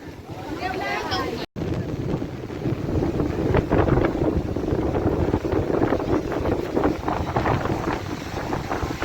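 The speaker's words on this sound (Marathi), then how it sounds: "हवा भरपूर सुटलाय" Strong wind buffets the microphone on Pirwad Beach on a crowded Ashadhi Ekadashi day, a steady loud roar with a brief dropout early on, while voices of people nearby mix in underneath.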